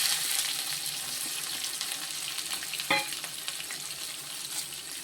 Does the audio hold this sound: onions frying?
yes